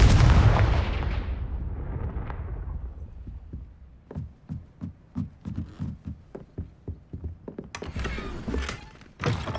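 Confringo blasting spell in the Hogwarts Legacy video game, a deep booming explosion that rumbles and fades, followed by a run of rhythmic low thuds and a closing crackle.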